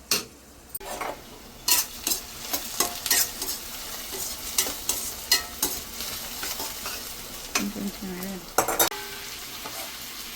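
Meat (boti) stirred into fried onions in a pan of oil, with a low frying crackle under repeated sharp scrapes and clinks of a spoon against the metal.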